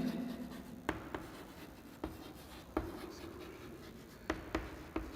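A definition of callus handwritten during a biotechnology class, a soft continuous scratching broken by a few sharper pen taps, close and quiet, with no voices.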